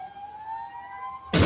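A steady wailing air raid siren tone holds and slowly rises in pitch, then a sudden loud, harsh blast cuts in at the very end.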